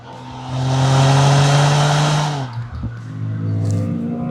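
Exhaust of a Toyota GR Corolla with a small three-cylinder engine, a loud close rev that swells and holds a steady drone, then drops away and settles into a lower rumbling idle.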